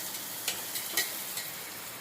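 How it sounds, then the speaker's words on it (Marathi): Potatoes frying in a pan, a low continuous sizzle broken by a few brief scraping stir sounds, close and fairly quiet, no voices. "बटाटा टाकून चांगला बटाटा भाजून घेऊ"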